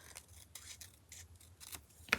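Short crisp snips of scissors cutting, several in an uneven rhythm. The sound is close and fairly quiet.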